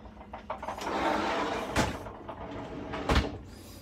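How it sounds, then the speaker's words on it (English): A sliding shower door in a 2020 Jayco Jay Flight SLX travel trailer rolls along its track, followed by two sharp clacks of the door lock snapping shut, close and clear with no voices. "This is your lock to lock your shower door shut."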